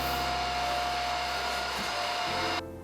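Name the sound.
vacuum cleaner cleaning crumbs and dust from a drawer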